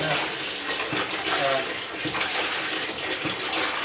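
Water gushes forcefully from a homemade PVC bilge pump used to empty a boat, splashing steadily and close by throughout.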